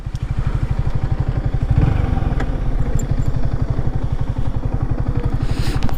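A motorcycle engine chugs steadily and close by in a hilly forest area of Kerala, with a fast, even thumping beat and slight rattle, holding a loud, unbroken rhythm with no voices.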